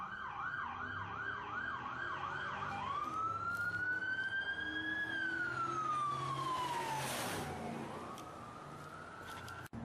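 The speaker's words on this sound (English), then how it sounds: "after the sirens go by." A police car siren passes by, wailing and yelping in rising and falling sweeps, loud and close, then fading slightly as it moves away.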